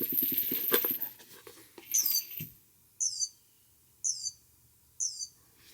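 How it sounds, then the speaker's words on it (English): After some clattering handling noise, a toy emits three evenly spaced, high, electronic chirps, each short and identical, separated by quiet pauses. "I like that it makes the chirping sound."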